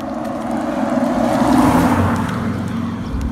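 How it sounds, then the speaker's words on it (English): Dense street traffic with cars passing continuously, heard on a walk outdoors as a steady, loud roar of engines and tires with no distinct pauses. "There's so many cars, damn it."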